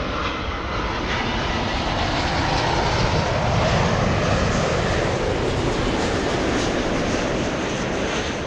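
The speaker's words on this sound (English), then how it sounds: "Big 777 flying in from London" A Boeing 777 airliner arriving at Los Angeles International Airport from London gives a loud, continuous jet engine roar that holds steady throughout with no talking.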